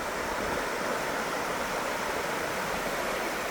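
Mountain stream rushing through Baekdam valley on Seoraksan, a steady broadband wash of flowing water, close and continuous with no voices.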